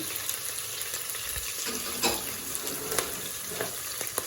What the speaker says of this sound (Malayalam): ഗ്രീൻ ചില്ലി അരിഞ്ഞ് വെച്ചിട്ടുണ്ട്, അതുകൂടി ഇട്ട് കൊടുക്കാം. നന്നായിട്ട് ഒന്ന് വഴറ്റി കഴിഞ്ഞിട്ട്